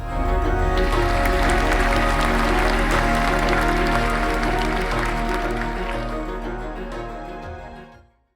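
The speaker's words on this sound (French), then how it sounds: "À 20h tous les soirs, les Français les applaudissent depuis leur balcon." Applause during the nightly 8 pm lockdown clapping, a broad steady patter with a rhythmic pulse underneath, loud and full before fading away toward the end.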